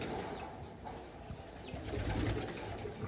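Pigeons coo softly inside a loft, with faint flutters of wings amid a quiet, steady room background.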